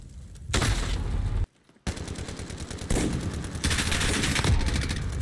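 Rapid automatic gunfire in a first-person shooter game, loud bursts of shots with a brief silent gap, then sustained fire that continues dense and close to the end.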